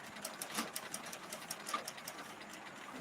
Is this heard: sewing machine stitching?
yes